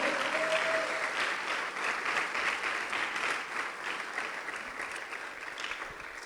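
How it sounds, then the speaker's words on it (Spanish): A church congregation claps in praise, a dense, steady wash of applause that fades slightly toward the end, with no speech over it. "Dele fuerte las palmas al Dios Todopoderoso"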